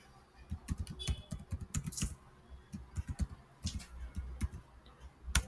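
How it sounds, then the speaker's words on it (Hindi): Soft, quick keystrokes on a computer keyboard patter in uneven bursts as someone types code, quiet and close with no talking. "so address I am just typing"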